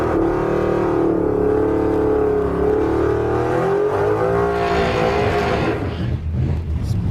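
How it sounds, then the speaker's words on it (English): A truck doing a burnout at a drag strip, its engine holding a loud, steady high-rev roar with a slight pitch rise and fall, close and continuous throughout. "It's a pretty good burnout."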